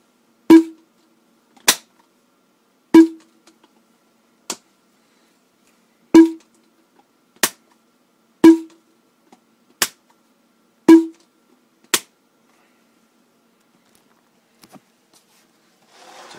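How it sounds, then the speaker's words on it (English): A plastic paintball pod is handled close to a microphone, producing about ten sharp, isolated clicks and taps spaced a second or so apart, then near silence with a few faint ticks. "A paintball pod. Doesn't make that much noise"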